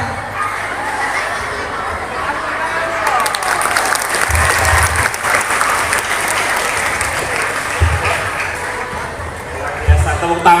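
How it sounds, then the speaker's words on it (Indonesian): Loud, sustained applause from an audience at a school democracy event, many hands clapping with crowd chatter, children shouting and occasional cheers mixed in, close and continuous. "Biasa tepuk tangan dong buat Mas Noto ya."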